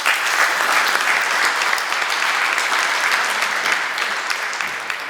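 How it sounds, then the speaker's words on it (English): An audience gives steady, dense applause for Luzius at a Swiss blockchain conference, with many hands clapping continuously and loudly throughout, no pauses and no talking over it. "So again, a round of applause to Luzius"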